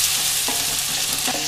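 Chopped tomatoes go into a pan of lightly browned onions while making masala paneer, giving a steady close sizzle and hiss with a couple of soft stirring scrapes.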